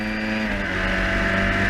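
A historic Formula Ford race car passes at speed on the Brands Hatch circuit, its high-revving engine note a loud, continuous whine with a slight pitch shift as it goes by.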